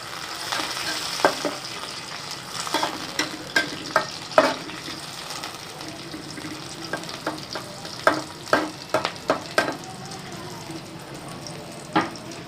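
Small onions sizzle steadily in ghee in a pot for dal mash, while a spoon scrapes and clinks against the metal in frequent irregular strokes, close and fairly loud.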